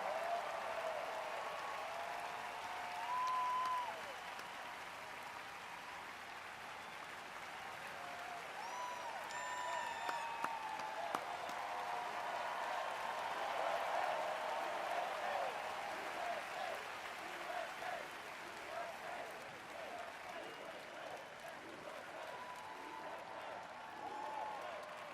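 A large outdoor crowd applauds at a Fourth of July speech on the National Mall, sustained clapping and cheering that swells and holds for the full stretch with faint voices mixed in.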